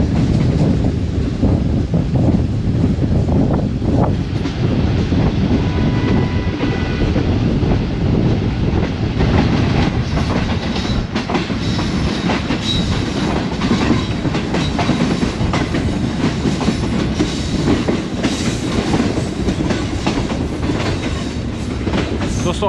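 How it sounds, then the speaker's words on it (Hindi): The Pak Business Express passenger train running into Sahiwal: a loud, constant rumble and rattle of moving carriages with rhythmic clickety-clack over the rails and wind buffeting, heard from on board without pause. "हमारी ट्रेन 33 अब पाक बिजनेस एक्सप्रेस साहिवाल शहर में दाखिल हो चुकी है"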